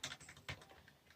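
Quick, soft keystrokes tap on a membrane gaming keyboard, a short run of muffled clicks at an uneven rhythm, faint and close with no talking.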